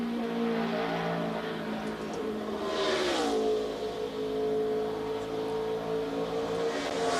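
NASCAR stock car engine droning on track, a steady loud roar with a pitch dip and rise as it passes through a corner, with no talk.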